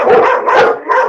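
Dogs bark and yip loudly and close by in three quick bursts, with no talking.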